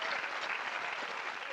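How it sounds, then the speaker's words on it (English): A studio audience at a 1993 televised toy show claps for a child, a dense, steady round of applause filling the room throughout. "little round of applause for Alice."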